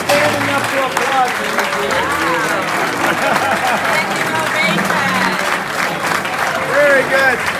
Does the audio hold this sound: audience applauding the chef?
yes